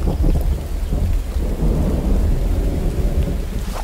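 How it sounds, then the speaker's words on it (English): A thunderstorm with heavy rain in the video game Hold Your Own, a dense, loud, steady roar of rain and rumbling thunder with no speech. "Here comes the storms."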